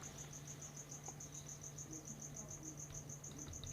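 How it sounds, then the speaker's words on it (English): Crickets chirp in a steady, rapid pulsing rhythm throughout, close and continuous, with a low hum underneath and no talking, heard while tarantulas are kept nearby. "So enjoy the sounds of crickets and looking at my tarantulas."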